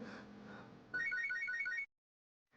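A mobile phone ringtone plays a bright repeating electronic melody for about a second, then cuts off into silence. A faint murmur sits underneath before it starts.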